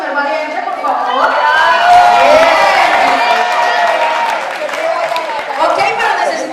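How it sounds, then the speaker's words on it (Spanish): Audience at a regional legal-defense gathering in Cali, Colombia cheers and claps loudly for a volunteer, a dense crowd roar with voices and whoops mixed in, sustained throughout with chatter underneath. "Un aplauso para el primer valiente, por favor."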